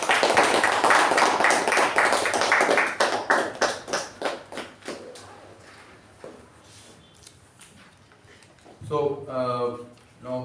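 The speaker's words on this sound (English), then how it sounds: "Let's give a huge round of applause." Meeting attendees applauding, a loud burst of many hands clapping that thins into scattered claps and fades out, followed by a person speaking.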